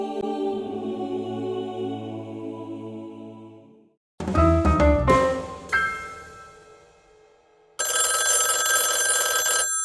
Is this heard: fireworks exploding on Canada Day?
no